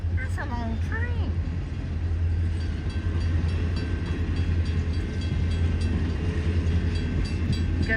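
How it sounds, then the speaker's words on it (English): A long train passing in Denali National Park, Alaska, with a steady low rumble and clattering of wagons rolling by, and a brief voice at the start. "That's a long train."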